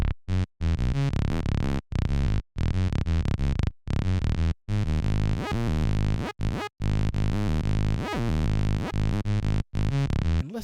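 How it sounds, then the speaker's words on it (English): Acid-style bass line from a Korg Triton 30303 mega bass patch emulating a Roland TB-303: loud, buzzy and resonant, with rapid staccato notes, short gaps and squelchy filter sweeps running throughout. "It's a 30303 mega bass."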